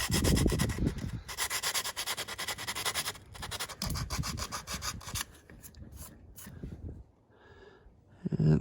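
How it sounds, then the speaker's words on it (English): Fine grit sandpaper scuffs light surface rust on a Jeep JL rear bumper, giving bursts of close, dry rasping strokes with brief pauses, fading quieter toward the end. "I'm just going to use a piece of fine grit sandpaper."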